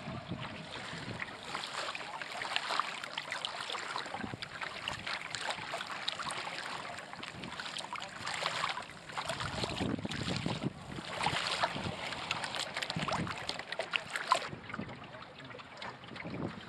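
Steady wind rushes past a prototype sailing dinghy near Terre-de-Haut, with a continuous broadband hiss and faint water wash. It is loud and unbroken, with gusty swells but no talk.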